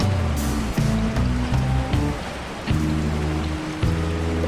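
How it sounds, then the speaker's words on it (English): Heavy rain pours down in a cartoon scene, a dense continuous hiss running throughout with steady low tones and a few sharp accents beneath it. "The rain is very heavy."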